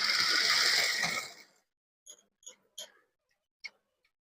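A sewing machine stitching a size 34 puff-sleeve blouse runs in a steady whir for about a second and a half, then stops, leaving a few separate mechanical clicks and ticks.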